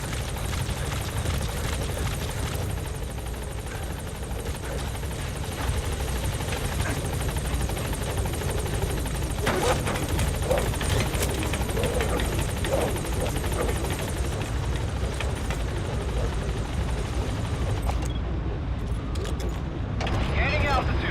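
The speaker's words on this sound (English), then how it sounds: "Support helicopter has arrived." Support helicopter arriving at a landing zone in Metal Gear Solid 5, a continuous loud rotor drone filling the scene, with a voice speaking over it.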